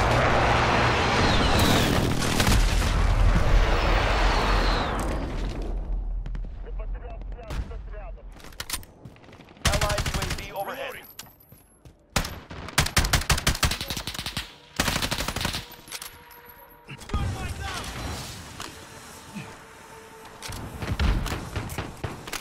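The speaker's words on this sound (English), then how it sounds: "Allied precision airstrike incoming." Heavy gunfire during a Call of Duty: Modern Warfare domination match, dense automatic bursts with booming impacts early on, then scattered shots and pauses as voices talk between volleys.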